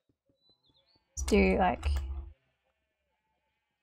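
A sheep in the video game Minecraft gives one loud, wavering bleat of about a second, preceded by faint clicking, with a brief spoken word near it.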